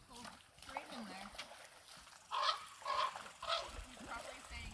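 A raven near a lake and creek gives three loud, harsh honking croaks in quick succession at moderate distance, with someone talking quietly beneath the outdoor ambience.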